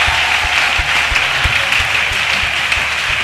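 A church congregation applauding and acclaiming together, with dense, loud, sustained clapping from many hands and a steady rhythmic beat running underneath throughout.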